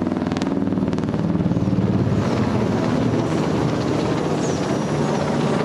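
NH-90 Caïman naval helicopter of the French Marine Nationale in a flying display at the Hyères naval air base centenary meeting: a steady, loud rotor and turbine roar with faint beating, continuous throughout, no talk.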